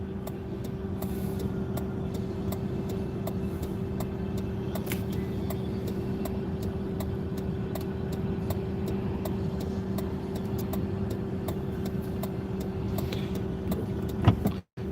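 Steady interior drone of a car with a 4.6-liter engine driving, engine hum and road noise holding constant, with occasional small clicks and a brief thump at the end.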